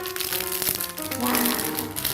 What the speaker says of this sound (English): I'm going to unwrap this with you.